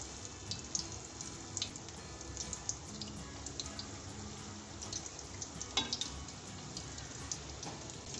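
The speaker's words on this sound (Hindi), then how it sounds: "इनको लो फ्लेम पे ही फ्राई करना है ताकि मिर्चें अच्छी तरह से सॉफ्ट हो जाएं" Green chilli pakoras frying in oil over a low flame, a faint, steady crackle with scattered small pops and bubbling, quiet and without talk.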